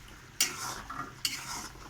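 A spoon stirs thick jaggery syrup coating sweets in a pan, two scraping, sizzling sweeps about a second apart, close and fairly quiet.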